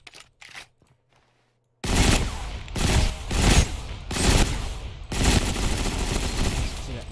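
Automatic gunfire from a Bodark weapon in Ghost Recon Phantoms, a few short clicks and quiet handling first, then loud sustained bursts of rapid shots in several strings separated by brief pauses.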